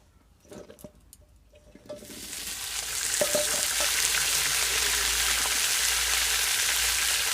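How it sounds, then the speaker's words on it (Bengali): Cauliflower pieces dropped into mustard oil for khichuri, starting with quiet clinks and handling, then swelling into a loud steady sizzle that fills the rest, no talking. "প্রথমে আমি ফুলকপিগুলো ভেজে নিচ্ছি সর্ষের তেল দিয়ে দিচ্ছি"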